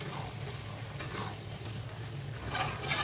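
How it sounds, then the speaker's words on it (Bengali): Meat for biryani sizzling in a pot as it is stirred, a low steady fry with soft scraping bursts, close and fairly quiet, no talking. "ঢাকনাটা খুলে দেখি কদ্দূর দিয়ে মাংসটা অনেকটা কষানো হয়ে গেছে"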